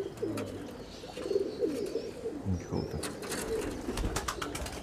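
Pakistani Teddy pigeons coo in repeated low, throaty rolls close by, with faint chirps and clicks scattered over steady background noise and some overlapping voice.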